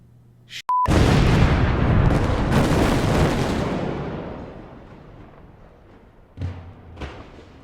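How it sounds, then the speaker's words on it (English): A pipe bomb detonates in Resident Evil Village with a sharp, loud boom right after a brief beep, then a long rumbling decay fading over several seconds, followed by a couple of smaller thuds. "It's a pipe bomb."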